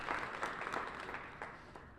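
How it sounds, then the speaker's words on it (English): Brief, faint applause from an audience at a DC One Fund closeout celebration, scattered claps sounding from a distance for a couple of seconds. "Give yourselves a round of applause."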